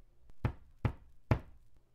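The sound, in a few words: loud knocking on a door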